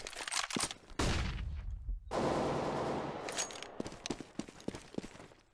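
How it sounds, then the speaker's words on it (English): Flashbang grenades and gunfire crack sharply in a video game, with rapid bursts of shots, then a loud bang that trails off in a long hiss and ring, and more shots after it. "I am throwing a flashbang"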